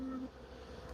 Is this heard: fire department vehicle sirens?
no